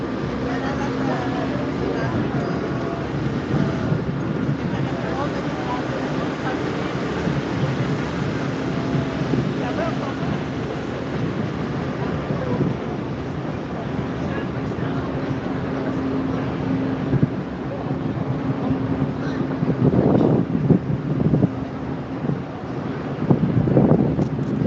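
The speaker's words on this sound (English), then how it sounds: "It's pretty breezy today." Steady breezy wind buffets the microphone outdoors at a Persian Day parade on a cold day, a continuous loud rumbling roar that swells near the end, with faint voices mixed underneath.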